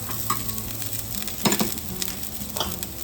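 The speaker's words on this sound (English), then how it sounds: "Now add the carrots" Carrots and long beans stir-fried with tempeh, a close, lively sizzle with a few sharp spatula scrapes and knocks against the pan.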